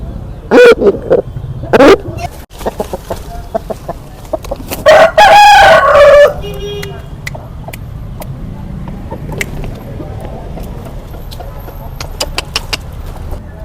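Country roosters on an organic farm crow loudly nearby, with several drawn-out crows and some clucking, while people talk in the background.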